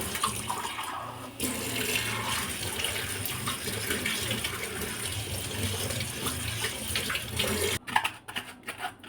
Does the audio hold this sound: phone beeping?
no